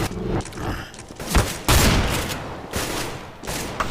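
Loud bursts of gunfire from a video game, with several sharp shots and rapid volleys spaced unevenly and set close against a rumbling background.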